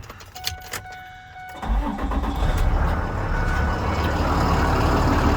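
A 2008 Ford F650 diesel tow truck's starter cranks briefly amid warning chimes, then the engine catches and settles into a steady, loud clattering idle.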